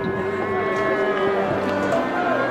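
Cattle mooing at a livestock market in Osh, Kyrgyzstan: a loud, sustained, droning low moo close by, over a busy background murmur.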